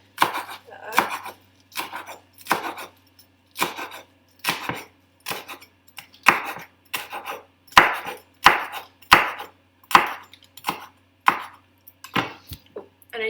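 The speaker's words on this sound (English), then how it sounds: "Just chop that up." Knife chopping fresh basil on a cutting board: about twenty sharp, evenly spaced chops in a steady rhythm, close and clear, with no talking.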